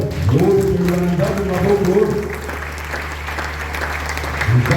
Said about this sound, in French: Est-ce que tu peux acclamer la parole?